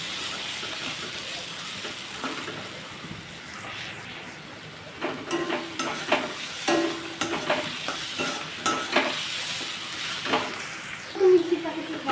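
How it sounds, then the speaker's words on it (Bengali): Onions fry in oil with spices for an egg curry, a low steady sizzle broken by repeated stirring scrapes and clatters from a spatula in the pan, close and moderate in level. "এটাকে সুন্দর করে ভাজতে হবে যতক্ষণ না লাল হবে ততক্ষণ এটাকে ভাজতেই হবে"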